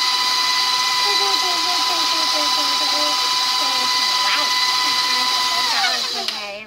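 An electric mixer runs at a raised speed through yellow cake batter made with flour and milk, giving a steady, loud motor whine with a bowl-scraping rhythm for the whole stretch before it winds down near the end.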